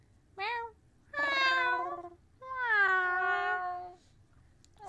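A cat meows three times close up, the first call short and the next two long and drawn out, with no talking.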